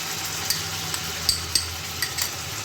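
Tomato puree sizzles in a frying pan with oil for a Bengali chicken and potato curry, a steady hiss broken by small crackles and light utensil taps at close range.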